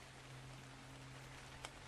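Rain falling in a dinosaur survival video game: a steady, faint, even hiss of rainfall throughout, with a low hum beneath it and a single sharp tick near the end.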